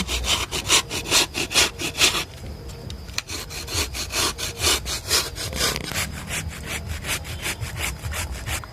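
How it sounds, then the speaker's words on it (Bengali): A coconut is scraped by hand for the filling of steamed bhapa pitha, a rapid, even run of rough rasping strokes, close and fairly loud, pausing briefly before continuing at the same rhythm. "আমার যতটা দরকার আমি অতটাই কুড়ে নেব, আর বাকিগুলো রেখে দেব।"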